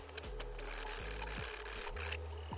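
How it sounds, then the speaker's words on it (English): A saw blade cuts excess plastic off an aftermarket body kit panel, giving a close, continuous rasping buzz with a motor whine that repeatedly drops in pitch under load and recovers. "carefully starting the saw blade action and removing the excess parts."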